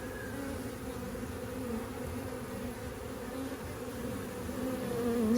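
Honey bees swarm around an open hive during a first inspection, making a dense, steady buzzing drone that swells slightly louder toward the end, with no talking.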